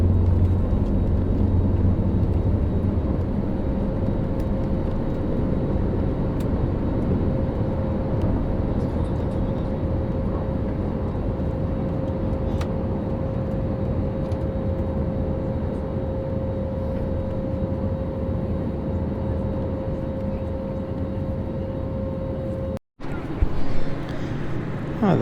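An Iberia Express A321neo rolls down the runway, giving off a loud, steady cabin drone with a sustained engine hum, continuous for the whole stretch, with a short bump near the end.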